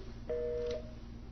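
A telephone keypad gives a single short dual-tone beep, about half a second long, over a steady low hum in a quiet room.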